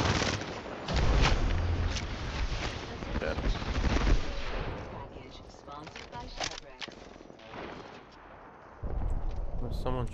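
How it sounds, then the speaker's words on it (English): Gunfire from the battle royale video game Apex Legends: dense, loud bursts of automatic shots crackle and rattle throughout, with heavy volleys near the start and again near the end. "Shooting at us."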